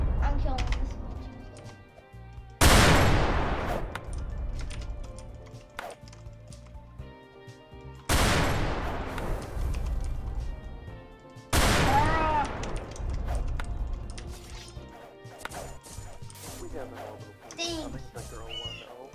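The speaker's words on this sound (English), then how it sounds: "They're sniping at me." Sniper fire in a video game, heard as a few loud sharp cracks that each fade slowly, with game music and other game sounds and a speaking voice running underneath.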